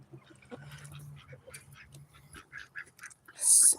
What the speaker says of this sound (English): Muscovy flock.